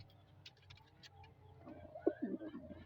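Soft pigeon coos in a loft rise near the end over a low, steady background hum, with a few faint higher chirps earlier; quiet and close.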